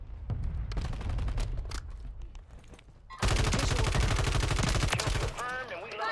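Rapid bursts of HRM-9 submachine gun fire in Warzone 3, a dense, loud, continuous stream of shots that grows heavier partway through, with game effects layered around it.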